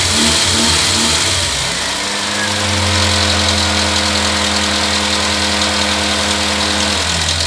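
Car engine cranks briefly then catches and settles into a steady idle with a low humming drone, following a starter motor replacement on a small hatchback; close and loud, no talking.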